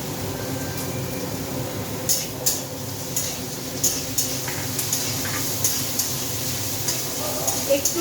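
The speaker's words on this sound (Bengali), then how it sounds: "এবার আমি এতে আদা বাটা দিয়ে দেবো।" Ginger paste goes in with lightly fried potatoes in a wok and is stirred, with a soft sizzle underneath and regular clinks and scrapes of a metal spatula on the pan, close by, with brief talk.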